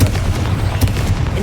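A Confringo spell blast in Hogwarts Legacy bursts out as a heavy, booming explosion with a deep low rumble and a sharp crack partway through.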